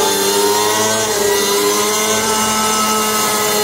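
An EMULA ON electric motorcycle plays its simulated combustion engine roar, a steady, loud, rumbling drone with layered harmonic tones that holds level throughout.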